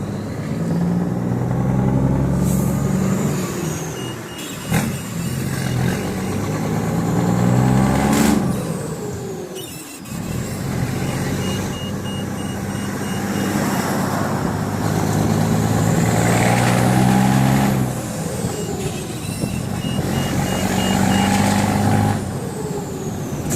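A freshly tuned truck drives along, its engine rising and falling through repeated gear pulls with a steady roar, interrupted by sharp air-brake hisses and clunks, loud and close the whole way.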